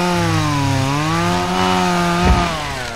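A chainsaw in the horror game Obscure 2 running steadily, its pitch wavering up and down like a revving engine, loud and close with a brief harsh burst near the end.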